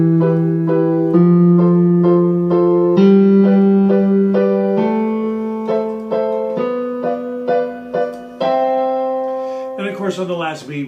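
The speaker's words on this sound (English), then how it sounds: "the left hand plays the root note on beat 1, and the right hand is now playing the chords on beat 2, 3, and 4" Keyboard lesson pattern of a low left-hand root note on each bar's first beat followed by three right-hand chord strikes, repeating steadily for several bars in a clear, close piano tone, ending with a more complex chord run.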